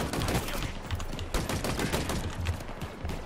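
Rapid, sustained gunfire in the Halo Infinite video game, loud dense bursts of automatic shots crackling continuously for a few seconds with no talk over it.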